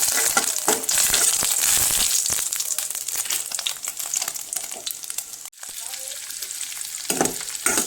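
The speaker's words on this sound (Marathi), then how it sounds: "त्याच्यामध्ये आपण आता बारीक चिरलेलं लसूण टाकूया" Finely chopped garlic frying in hot oil in a home kitchen pan, a loud, continuous close sizzle with crackling and occasional stirring scrapes throughout.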